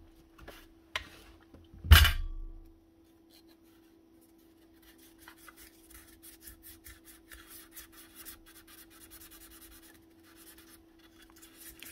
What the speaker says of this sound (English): This is only aluminium, so you will wear it away quite quickly if you use a coarse sandpaper.